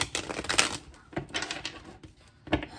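A few quick riffling, rattling bursts of tarot cards being shuffled, close and fairly quiet, with short pauses between them.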